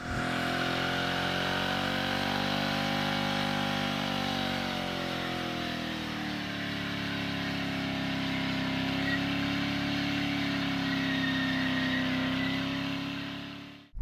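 A manual-transmission Chevrolet C7 Corvette Z51 heard from inside while driving, its engine a steady droning note that rises and shifts in pitch as it pulls, continuous and fairly loud throughout with no talking.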